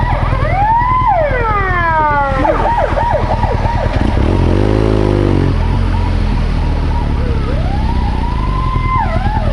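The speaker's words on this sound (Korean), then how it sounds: "뒤에 앰플런스 오는데 어떻게 한번 볼까요" A loud ambulance siren approaching from behind sweeps up and down close by, shifting to a rapid yelp midway, over steady traffic and engine rumble.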